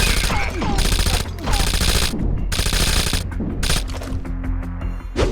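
AI teammates in Ghost Recon Breakpoint open fire in loud, rapid automatic bursts, with overlapping volleys and brief gaps between them.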